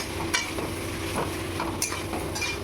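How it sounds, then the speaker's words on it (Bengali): Taro leaves (kochu shak) cooked with prawns are turned over in a hot pan, giving a steady close sizzle with scraping spatula strokes and light clinks, no voices. "দিয়ে আমি আবারও কচু শাকটা একটু নাড়াচাড়া করে দেবো"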